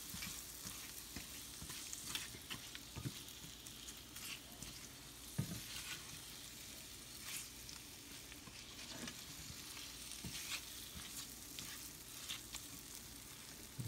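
Seasoned shrimp cooking in a pan for spicy tacos: a quiet, continuous frying sizzle full of fine crackles and occasional pops that runs on steadily with no one talking.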